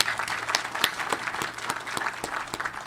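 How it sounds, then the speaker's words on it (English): A modest round of applause fills a crowd at a groundbreaking ceremony for the Culpeper County field house, with scattered individual claps standing out over a steady, moderate patter. "asking you again for another small round of applause for the Parks and Recreation staff"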